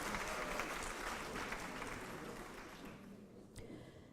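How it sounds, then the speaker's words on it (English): Sustained applause from a large audience at a university master's hooding and graduation ceremony, steady and dense throughout and tapering slightly toward the end, with no talk over it. "Let's give a round of applause to our College of Agricultural Life and Natural Sciences."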